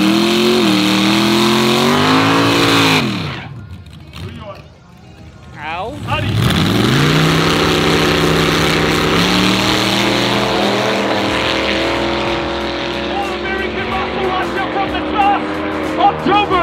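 An Audi and a V8 car launch side by side in a drag race, engines screaming up through the revs, dipping briefly at a shift and then climbing again loud and close, with an announcer talking over the noise.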